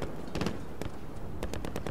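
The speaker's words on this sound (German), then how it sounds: "Guter Schuss, Alex." Rapid bursts of gunfire in Call of Duty: Modern Warfare, several sharp shots in quick clusters over a steady background of game noise.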